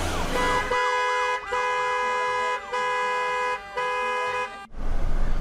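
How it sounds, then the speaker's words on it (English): Heavy road traffic with repeated car horns honking in long sustained blasts, mixed with a wailing emergency siren, loud and continuous before stopping abruptly. "And that's a lot of traffic."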